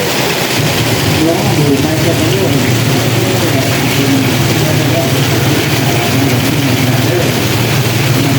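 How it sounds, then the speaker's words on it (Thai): Steady heavy rainfall hissing and drumming during a boat race festival in Pak Bang District, Laos, with a low engine hum beneath it, loud and continuous. "โอ้โห ฝนตกพี่น้อง"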